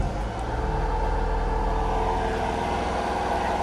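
A truck's engine runs and revs up close with a low, throbbing rumble, holding fairly loud and steady throughout with no talking.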